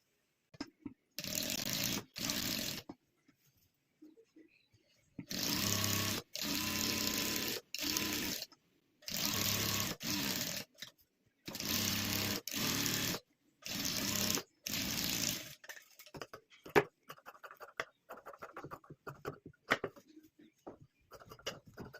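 A sewing machine stitching all four sides of a homemade makeup pouch runs in repeated loud bursts of whirring, separated by short pauses, then gives way to scattered handling noises.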